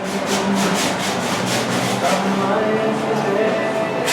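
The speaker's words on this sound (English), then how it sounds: "he's just sanding away, sanding away" Someone sands the body of a Karmann Ghia car with quick back-and-forth rasping strokes, a rhythmic scrubbing that is steady and close, and no one speaks over it.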